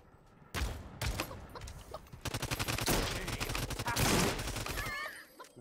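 A video game firefight with a bot wielding a shotgun crackles with repeated blasts and rapid volleys. The shots come in uneven clusters, loud and close, then trail off into small effects.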